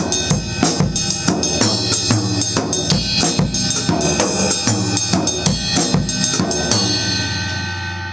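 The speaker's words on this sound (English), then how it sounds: "but a gaguanco sounds like this." Guaguancó rhythm pattern played on drums alongside a bell part, a dense, continuous groove of sharp repeated hits and booming low tones for about eight seconds, with no talking, tailing off at the end.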